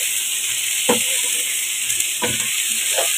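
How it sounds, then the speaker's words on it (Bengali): Onions fry in a pan with a steady close hiss and sizzle, broken by occasional scraping stirs. "তো পেঁয়াজ অ্যাড করে আমি এখন খুব ভালো করে এখন একটু এগুলোকে ভাজতে থাকবো।"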